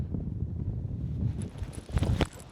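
Gusty wind on a disc golf course in Norway buffets the microphone with a low rumbling roar, swelling near the end, with faint rustling and no talk.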